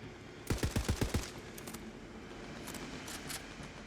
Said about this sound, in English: We'll give a try out Dahlia assault rifle.